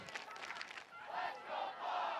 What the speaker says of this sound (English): Oriole crowd getting into it a little bit here,